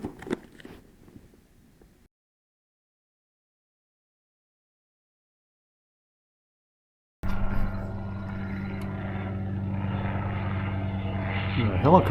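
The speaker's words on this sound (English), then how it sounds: "A helicopter going right over." A helicopter passing directly overhead at night in the Alaskan backcountry near Chena Hot Springs, a steady loud rotor and engine drone that cuts in abruptly after silence and holds, growing slightly, with faint rustling beforehand.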